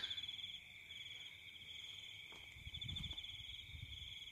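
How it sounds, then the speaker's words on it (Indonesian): Continuous high-pitched cricket chirping trills steadily in a quiet night garden after rain, with faint low rustling underneath. "Tuh, teman-teman dengar suara jangkrik kan?"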